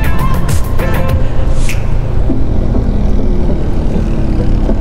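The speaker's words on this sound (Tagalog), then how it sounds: "Grabe, ang lakas ng motor nila no." Loud motorcycle engines roar nearby on a mountain road, a heavy continuous drone with rising pitch sweeps and a few sharp bursts near the start.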